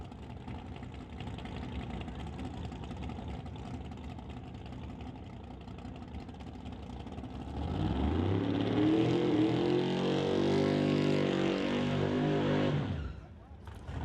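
A twin-turbocharged Gen 3 Chevy Nova drag race car at an Outlaw 275 event, engine idling at a distance before swelling into a loud, sustained rev for several seconds and then cutting off abruptly.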